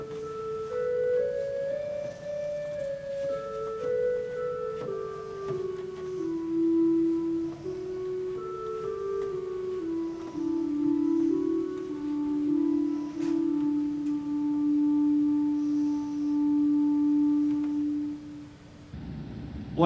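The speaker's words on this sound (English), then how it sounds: "What you just heard was a very simple cantus firmus in the pedal of the plainsong Adoro te devotee." Organ pedals carry the plainsong Adoro te devote as a simple cantus firmus, a slow line of sustained low notes moving stepwise, with quieter upper voices sounding above it, steady and unaccompanied by talk.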